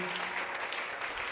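A church congregation applauds in a steady, dense wash of clapping, moderately loud and sustained throughout.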